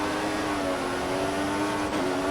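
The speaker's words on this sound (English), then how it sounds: "The engine is so loud." A 2014 Formula 1 car engine at the Austrian GP in the F1 2014 video game drones loudly and steadily at high revs, its pitch dipping briefly near the end before holding again.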